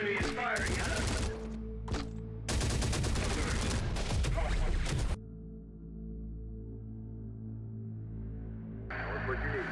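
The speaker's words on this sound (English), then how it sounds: "The enemy is firing at us." Enemy gunfire in the video game Terminator: Dark Fate Defiance, with dense automatic bursts rattling in two long stretches, then a low steady hum, while a voice talks in between.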